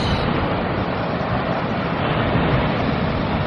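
Caribbean Sea waves and surf on a morning shore, a loud continuous wash of breaking water with windy rush, steady and close throughout with no voices.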